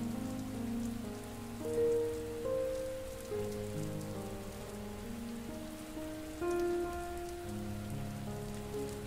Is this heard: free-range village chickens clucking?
no